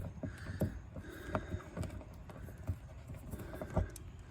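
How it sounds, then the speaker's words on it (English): A 1/4 inch socket wrench working a fender flare bolt loose on a Jeep Cherokee, with quiet repeated ratcheting clicks and creaks in an irregular rhythm, close and faint. "let me just try and use my 1/4 inch socket, since that's handy"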